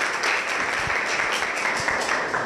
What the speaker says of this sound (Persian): یک تشویقی بکنیم